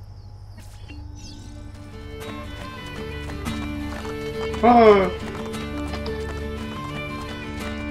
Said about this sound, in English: Nie uciekaj, koniu. Dobry, koniu.